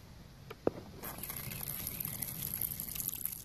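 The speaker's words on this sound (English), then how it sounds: "We're going to throw some water in there." Water is poured into a tarantula enclosure, a close trickling splash that starts after a faint knock and continues steadily to the end, soft and unbroken, with no one speaking.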